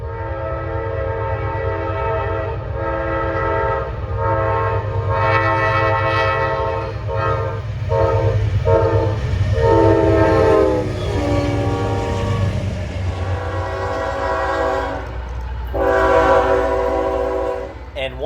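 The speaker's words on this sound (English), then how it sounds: "But a train is never too far away." A train rolls through Folkston, Georgia, sounding its horn in repeated loud blasts over a constant rumble of wheels and cars on the rails, close and continuous throughout.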